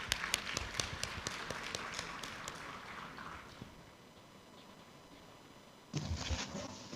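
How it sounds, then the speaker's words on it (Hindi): Audience applause at a financial freedom summit in a hall, a burst of claps that thins and fades to near silence, then a brief louder swell of clapping near the end. "जोरदार तालियां"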